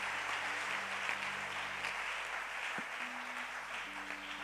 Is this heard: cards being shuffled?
no